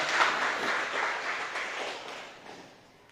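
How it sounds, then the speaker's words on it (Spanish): A church congregation claps together during a worship service, a dense patter of many hands that swells briefly near the start, then gradually fades away. "Démosle un fuerte aplauso al Señor"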